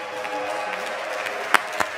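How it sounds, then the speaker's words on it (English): A church congregation at a Sunday service gives a graduating high school student a round of applause, a moderate, steady patter of clapping with a couple of sharper claps near the end. "Everybody give her a round of applause."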